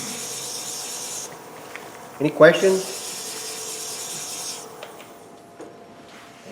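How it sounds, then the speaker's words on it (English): A turned pen gets sanded with polishing paper in a woodturning shop, a short scratchy rubbing burst rising briefly over a quiet background hum, with a voice speaking nearby. "Sanding is so exciting."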